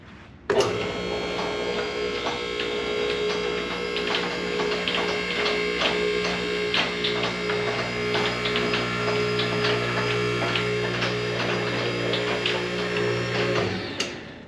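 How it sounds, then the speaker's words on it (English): Two post car lift raising with its cables winding onto the pulleys, a loud steady motor hum and whine with ticking mechanical clatter running continuously until it stops near the end. "So we're going to slowly here pull it up, make sure all the cables wind up on the pulleys where they're supposed to be"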